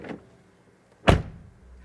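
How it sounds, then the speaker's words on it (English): A single solid door thud from a 2023 Mercedes EQE SUV lands after a faint earlier click, with a short fading rumble behind it. "the door closing sound"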